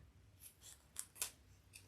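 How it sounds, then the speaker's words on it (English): Scissors snip through a zipper during backpack sewing, with about five short, crisp cuts spaced irregularly and heard up close in a quiet room. "Oh, I need to trim down this zipper real quick."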